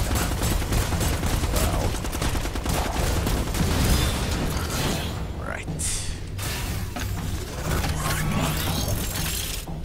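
Dense, rapid gunfire from the Livelock video game rattles on almost without pause, loud and continuous, with a person talking over the shooting.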